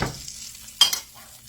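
Hot oil sizzles in a pan while cube steak fingers are being cooked, a brief crackle and stir at the start, then a sharp sizzling burst midway that fades quickly; no talking.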